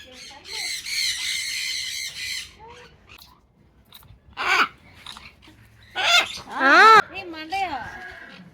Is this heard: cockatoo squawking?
yes